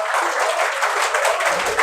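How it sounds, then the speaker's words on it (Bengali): Students clap loudly as a group, a steady, close wash of applause that holds throughout with no voices on top. "জোরে হাততালি"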